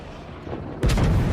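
The main battery of the battleship Colorado fires in a naval combat video game, a single heavy boom that hits hard after a brief lead-in of game ambience.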